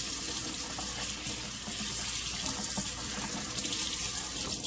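Cold tap water runs steadily into a sink while salt mackerel is rinsed. A continuous, close hiss and splash holds level throughout with no pauses and no talk.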